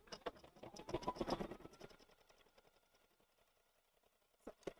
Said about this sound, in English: I'll go stitch eyelets also in brown.